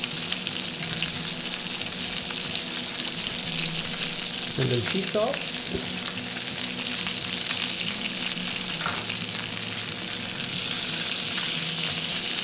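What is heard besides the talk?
Atlantic salmon fillet sizzling in hot pan with olive oil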